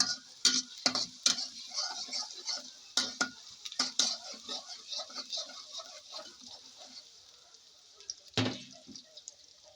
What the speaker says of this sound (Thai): ใส่น้ำมันลงไปเลยค่ะ ใส่กระเทียมนะคะผัดลงไป ให้หอม